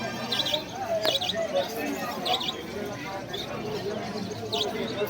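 Madras pigeons and other birds at a busy village pigeon market give faint, repeated chirps and calls under steady crowd chatter and talking.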